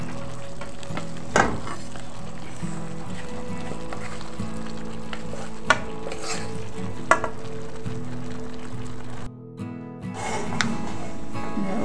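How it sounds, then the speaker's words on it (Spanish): Rice is stirred into the liquid left from cooking chicken, making a continuous close bubbling sizzle with a few sharp spoon knocks. The sound cuts out briefly near the end, then resumes. "Con este líquido que le queda al pollo, voy a mezclarle el arroz"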